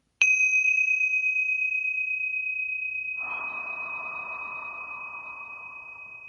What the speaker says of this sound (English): I'm going to ring the tingsha bells to open up that pure sacred space of channeling for today.